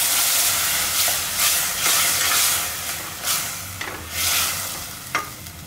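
Green tomato paste sizzles with fried onions in a pan for a mutton intestine curry, stirred throughout: a loud, steady hiss and crackle broken by repeated scraping stirs, with no talking.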